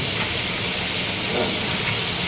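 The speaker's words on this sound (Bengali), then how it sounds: "মাছ ভাজা হচ্ছে অল্প তেল দিয়ে" Fish shallow-frying in a little oil, giving a constant, close hiss and sizzle that stays even throughout, with no voices.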